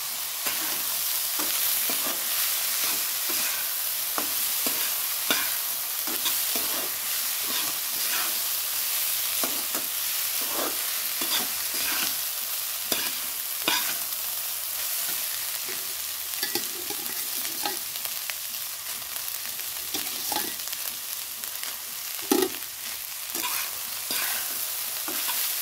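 Cooked rice stir-fried with salt in a pan, a steady sizzle broken by frequent scraping and tapping of a spatula against the metal, close and continuous with no talk.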